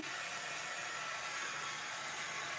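A steady, loud blowing whoosh of a heat tool drying a layer of watercolor paint runs without pause, a constant hissy airflow close by.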